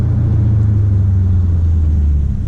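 A Dodge Challenger's engine rumbles deep and steady while warming its tires, a loud close low drone holding for a couple of seconds with no voices.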